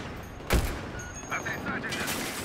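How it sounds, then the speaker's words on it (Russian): A single loud gunshot in the military shooter Battlefield 3 as a teammate is accidentally hit, followed by quieter clinks and game sounds, with someone talking over it. "А, я в своего стреляю случайно"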